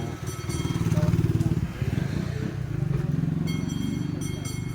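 A secondhand motorcycle's engine idles close by, heard at the exhaust, with a throbbing, pulsing note that dips briefly midway, then settles back into a steady putter.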